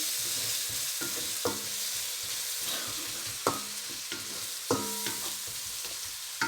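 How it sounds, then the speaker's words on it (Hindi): Spices roast in a pan for baingan bharta, a steady sizzle with a few sharp spoon scrapes and clinks against the pan as they are stirred. "ताकि हमारे मसाले नहीं जलें, वरना नीचे लगना शुरू हो जाते हैं। इनको अच्छी तरह हमने भूनना है।"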